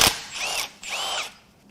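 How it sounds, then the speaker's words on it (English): Power tool spinning off the bolts on an engine stand plate holding a 2020 Chevrolet Silverado 1500 3.0 Duramax engine, two close, loud whirring bursts one after another with a short pause between. "I'm going to have to unbolt 2 of the bolts, this one and this one"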